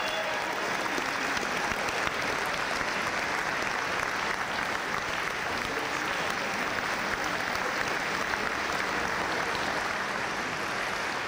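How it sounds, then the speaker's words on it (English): Steady, sustained applause from a large audience at a sports hall of fame induction ceremony honoring the inductees, dense and even for the whole stretch at a moderate distance. "How about one big, nice round of applause?"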